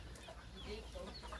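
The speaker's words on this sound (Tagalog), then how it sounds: "Oh, dami naming chicks ano" Chickens and chicks cluck and peep softly around a backyard coop, faint, scattered short calls over a low, steady background.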